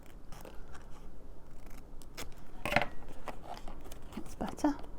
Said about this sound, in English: To do with my little scissors.